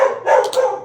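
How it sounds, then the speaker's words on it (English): A dog barks twice in quick succession at close range, loud sharp yaps set over a low steady background. "the dog is barking"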